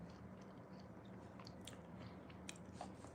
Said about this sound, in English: If you're wondering what I'm chewing